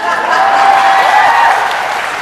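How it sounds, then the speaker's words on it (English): Audience applause at a fan convention panel in New Jersey, a steady dense patter of clapping that holds through the short stretch with some faint voices mixed in. "that deserves a round of applause"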